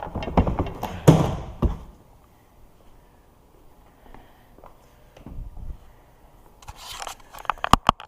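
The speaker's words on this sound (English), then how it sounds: "Pop the seat off." The seat of a Sea-Doo Spark personal watercraft is pried and pulled off, giving close clunks, scrapes and cracks at the start, a quiet stretch, then a burst of sharp clicks and knocks near the end.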